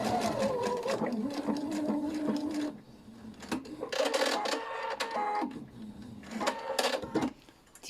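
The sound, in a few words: sewing machine stitching a patchwork quilt seam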